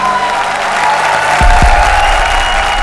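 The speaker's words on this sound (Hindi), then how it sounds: "तो एक बार जोरदार तालियां हमारी तीनों जोड़ियों के लिए" TV comedy show studio audience breaking into strong applause, a loud continuous wash of clapping with a low thump partway through, under music.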